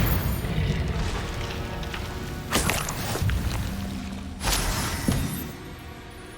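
Incendio fire spell cast in Hogwarts Legacy, heard as loud bursting whooshes and crackling blasts over a busy rumbling battle background, with two sharp impacts standing out.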